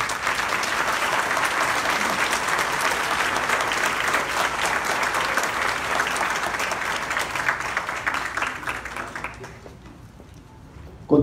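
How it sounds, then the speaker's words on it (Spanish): Audience at a university graduation ceremony giving sustained, even applause, a full steady roar of clapping for around nine seconds that thins and fades out at the end. "brindémonos un afectuoso aplauso"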